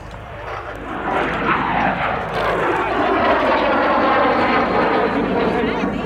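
A Polish license-built MiG-15 jet passes at the Yeovilton airshow, a loud rising roar with a sweeping pitch that swells and holds, while a commentator talks over it.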